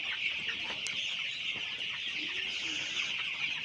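Young 16-day-old colour bat chickens keep up a dense, steady chorus of high peeping and clucking from a close flock on a farm, with no talk.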